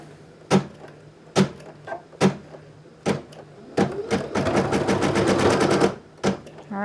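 An embroidery machine sews satin stitch on plush fangs, with sharp mechanical clacks spaced about a second apart, then a fast rattling burst of stitching before the spaced knocks return.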